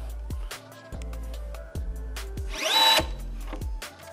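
An Atlas Copco power tool tightens a joint in a lab, running in short repeated bursts, whirring up and stopping several times, with one louder rising whine as it tightens.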